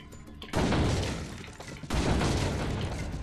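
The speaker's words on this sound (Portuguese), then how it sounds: "Tentar dar bastante tiros consecutivos." Two loud, sharp gunshots in Resident Evil 4 ring out about a second and a half apart, each followed by a long decaying crash, with faint clicks before the first.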